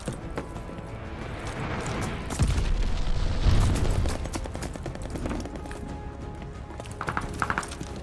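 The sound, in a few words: glide bomb explosion in video game Call of Duty: Vanguard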